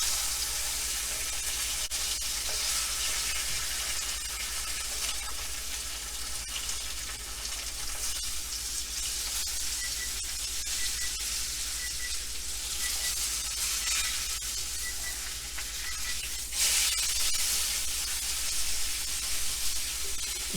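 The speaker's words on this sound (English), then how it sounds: "Remember to sear all sides of the steak" A tomahawk ribeye steak sears in butter in a hot pan, a loud, steady, dense sizzle holding for the whole stretch, swelling slightly near the end, with no talking.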